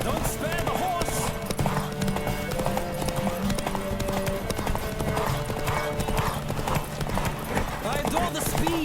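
A galloping horse in The Witcher 3: Wild Hunt drums out a continuous, close hoofbeat rhythm, with a brief whinny-like tone, while voices talk and game music plays beneath.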